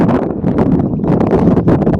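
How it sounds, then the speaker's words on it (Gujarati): Loud, gusty wind at a dam by a riverside buffeting the microphone, a constant low roar with rough rumbling surges throughout. "પવન એવો આવે નહીં?"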